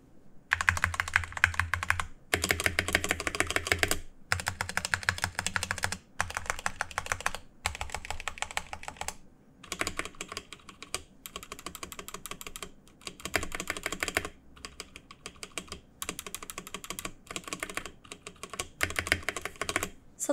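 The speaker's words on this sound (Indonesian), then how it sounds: "Tapi bagian spasi stabilizernya ini terdengar rattle dan ticking." Keys clacking steadily on a Redragon K616RGB wireless gaming keyboard in bursts of fast typing with short pauses, the spacebar stabilizer adding a rattling tick, close and alone with no voices.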